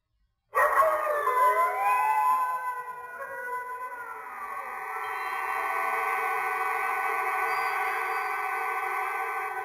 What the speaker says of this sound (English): he pointed his nose at the moon and howled long and loud